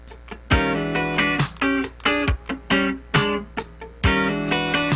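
A clean electric guitar plays a choppy funk rhythm part, with crisp chord upstrokes and downstrokes in short, syncopated, evenly spaced hits, close and fairly loud.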